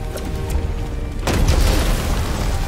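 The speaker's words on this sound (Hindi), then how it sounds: "बम." A bomb blows up in the video game Minecraft Legends, a heavy booming blast that swells over rumbling low-end noise and lingers as a roaring, crackling tail.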